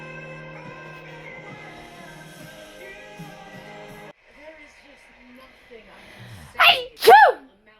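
A pair of loud, close sneezes bursts out near the end, following a stretch of steady vehicle engine hum and quieter background sounds inside a car.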